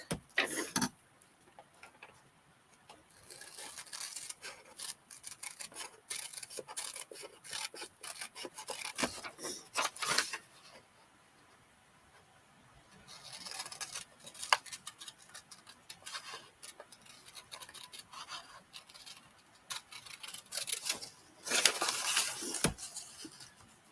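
Small pieces are cut out, probably with scissors, as bursts of crisp snipping and paper rasping come and go close by, broken by short quiet pauses.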